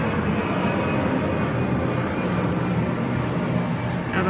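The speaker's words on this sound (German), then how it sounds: "Ein Flugzeug kommt mir jetzt." A steady, broad rumble of a plane passing overhead, fairly distant, blending with a constant wash of rain-like noise throughout.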